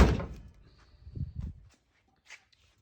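A Ford Bronco tailgate swings shut with a couple of dull thuds, close and moderately loud, followed by a faint click and quiet.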